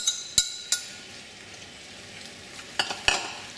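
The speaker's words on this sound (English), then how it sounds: "We're going to put our old kimchi in here." Old diced kimchi with its juice hitting a hot pot for kimchi jjigae, a soft continuous sizzle punctuated by a few sharp utensil clinks, close and without talk.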